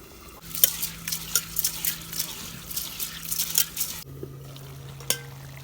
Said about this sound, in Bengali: এখন আমি সর্ষের তেল দিয়ে মাহি নিব